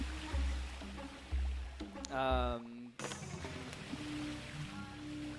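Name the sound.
water jets and swimming underwater in Freedom Fall video game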